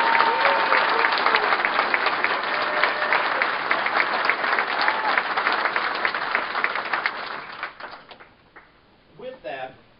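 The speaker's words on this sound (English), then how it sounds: "I think you all deserve a round of applause." A crowd claps and cheers at a political support rally, dense sustained applause filling the room for about eight seconds before fading out, followed by a voice starting to speak.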